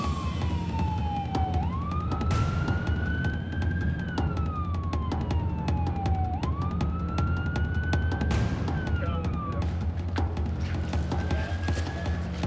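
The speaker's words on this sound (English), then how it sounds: "I think I hear the sirens." A wailing siren rises and falls in slow repeated sweeps over a constant rumbling background, steady and moderately distant.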